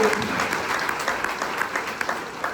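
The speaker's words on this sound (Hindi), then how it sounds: "हार्वेस्ट सक्सेस एकेडमी, जिनके लिए एक बार जोरदार तालियां होनी चाहिए" Audience applauding Harvest Success Academy at a seminar, a continuous, fairly loud burst of crowd clapping filling the whole moment with no gaps.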